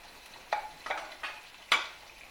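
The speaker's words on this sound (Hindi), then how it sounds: "ऑयल हमारा गर्म हो चुका है और हम चिकन डाल रहे हैं इसमें" Pieces of chicken dropping into hot oil in a karahi, four quick sizzling bursts in a row, each spitting loudly and fading, the last the sharpest.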